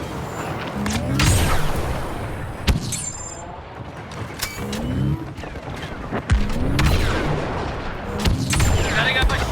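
Gunfire and explosions in the Star Wars Battlefront II (2017) video game on Geonosis: repeated blaster shots and heavy booms over a constant loud battle din, with game voices talking through it.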